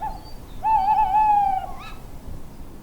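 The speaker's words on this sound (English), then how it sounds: "tawny owls in his back garden in Hadfield" A tawny owl gives one long, wavering hoot, then a short follow-up note, fairly close in a back garden in Hadfield, Derbyshire, against a quiet outdoor background.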